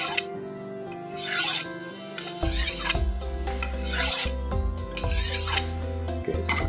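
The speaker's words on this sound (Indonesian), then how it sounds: "Ini sharpening ya, bukan stropping" A knife blade, a premium golok, is drawn across a sharpening stone in about five rhythmic rasping strokes, each a gritty scrape with faint metallic ringing between passes, close and clear with no talk.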